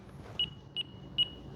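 A radio transmitter for a Durafly Tundra TPX 1050mm RC plane, set to 50% throttle, gives three short, clear, high-pitched beeps spaced evenly over a quiet background.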